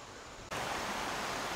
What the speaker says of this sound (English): you can see the creek, see a waterfall up there